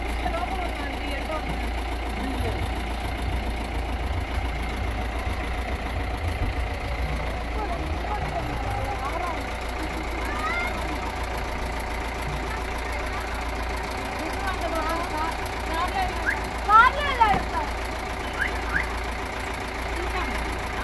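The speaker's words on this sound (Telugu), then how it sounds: "మేమందరం ఈ టెంపోలో వచ్చాం కదా" A tempo vehicle engine drones steadily throughout, a low continuous rumble with background voices and occasional brief louder clatters near the end.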